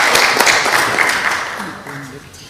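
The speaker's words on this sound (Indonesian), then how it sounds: "Kita kasih tepuk tangan untuk Pak Setia Budianto." An audience applauds Setyo Budianto, a KPK leadership candidate, at a hearing. The clapping starts full, then fades over a couple of seconds as a voice comes in.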